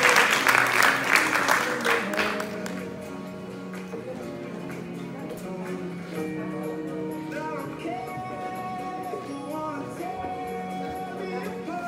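An audience at a 2019 scholarship ceremony applauds the presidents, a burst of clapping that fades after a couple of seconds into sustained music with a held melody.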